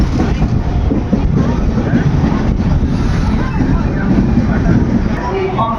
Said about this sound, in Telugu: 2వ నెంబర్ ప్లాట్ఫామ్ మీదకి అయితే వచ్చింది బండి.